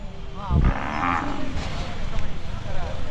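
A calf at the Siddaganga fair cattle market gives a loud, drawn-out moo close by, over a steady background of crowd and fairground noise.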